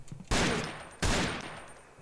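Video game gunfire from an online shooter match, two loud close bursts of rapid automatic fire about a second apart, each trailing off briefly.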